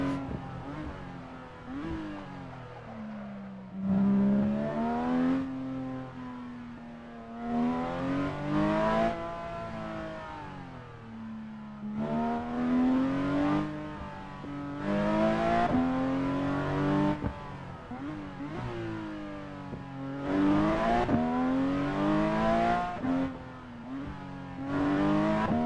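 A rally car drives the bumpy route from Tossa de Mar to St. Grau, its engine repeatedly revving up and easing off through gear changes, close and steady with no talking.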